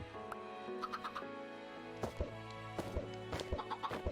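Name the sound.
chickens clucking in Minecraft video game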